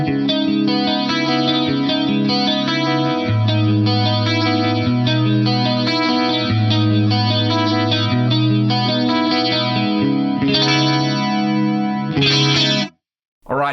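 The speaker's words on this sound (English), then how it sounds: "It's just what I would consider a really nice chorus for a clean sound." A clean electric guitar plays a flowing chordal figure through an analog mono chorus on an Axe-Fx III. The tone is steady, shimmering and close, and it stops abruptly near the end with a brief silence.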